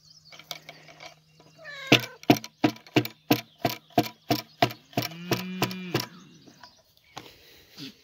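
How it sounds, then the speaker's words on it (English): Baby kittens on a farm give a couple of thin, rising meows among a loud run of rhythmic mechanical clicks, close by and with no one talking. "There's some baby kittens in here somewhere."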